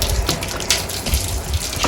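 Water splashes onto a dusty solar panel as it is cleaned, a close, continuous gushing and splattering that surges in uneven pulses, with no voices.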